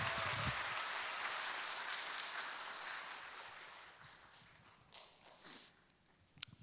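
A concert audience at an autumn community festival in Gwangjin claps thinly and unevenly, a faint patter of scattered hands that gradually fades and ends with a few isolated claps.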